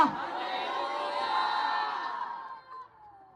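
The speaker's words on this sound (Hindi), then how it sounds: "जोर से चिल्लाओ हालेलुया" A church congregation at a Sunday sermon shouts hallelujah together in a loud, sustained crowd cheer that swells for about two seconds and then tapers off.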